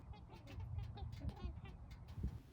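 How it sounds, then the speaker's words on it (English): Faint flock of snow geese calling, overlapping honks and yelps repeating over a soft background hiss, heard from a distance along a roadside on the way home. "I happened upon some snow geese on my way home"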